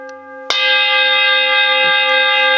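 A mindfulness bell rung at a meditation retreat, sounding every fifteen minutes: one clear strike after a brief quiet moment, then a long, loud, steady metallic ring that hangs and slowly sustains, with no speech.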